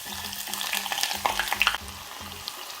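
Onion is added to hot oil for homemade chili oil, a bright crackling sizzle with a few quick bursts, easing to a calmer fry after a couple of seconds.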